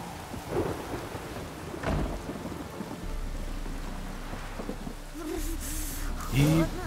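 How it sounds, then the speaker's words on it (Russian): Thunder rumbles through a steady downpour of heavy rain in a Witcher 3 game scene, with low booming rolls building toward the end as voices talk intermittently over the storm. "Гроза, мать ее."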